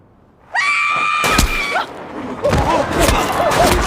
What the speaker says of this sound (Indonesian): Mereka ikut terkejut berlarian sambil menjerit